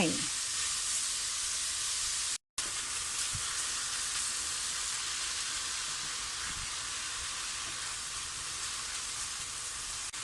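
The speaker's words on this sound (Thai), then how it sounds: "ผัดจนหอมแล้วเราจะใส่ เห็ดเข็มทองลงไป" Bacon, onion and enoki mushrooms stir-fried in a pan for a carbonara, giving a steady, close sizzle and hiss of frying that runs almost the whole time with only a brief break.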